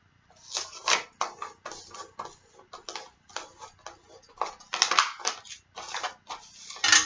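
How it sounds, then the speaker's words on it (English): Paper edges folded over and fixed with tape, heard as a close run of crinkling, rustling and short crisp tearing or pressing bursts in an uneven rhythm, with no talking. "folding my edges over and securing with a piece of tape."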